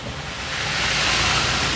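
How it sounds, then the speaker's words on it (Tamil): A cold mountain waterfall beside a hill road, swollen after heavy rain, roars as a steady, loud broadband rush with no speech over it. "இங்கே ஒரு அருவி மாதிரி இருக்குது பாருங்கள்"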